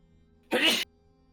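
A single sneeze bursts out once, loud and close, during a tabletop Dungeons & Dragons session, standing alone against a quiet room background.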